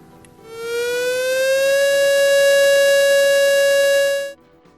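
A civil defense siren sounds for a moment of silence at the Jeju 4.3 memorial ceremony, rising in pitch, then holding a loud, steady wail for several seconds before cutting off.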